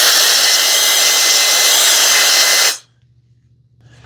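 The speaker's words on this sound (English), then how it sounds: "if you're like me and you're in a hurry, you can speed the process up with this blower" A handheld mini blower roars loud and steady for nearly three seconds, pushing air to dry a surface, then cuts off abruptly, leaving a faint low hum and quiet.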